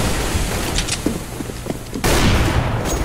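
A flashbang grenade goes off in a video game, a sudden loud broadband burst about two-thirds through that holds steady, following scattered sharp gunfire cracks and thuds.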